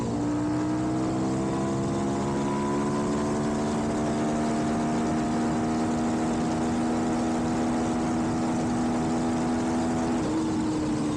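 A Suzuki DRZ400SM motorcycle fitted with a 12-tooth sprocket holds a high, straining engine whine at sustained high RPM, steady and loud with a slight pitch drift near the end, no talk.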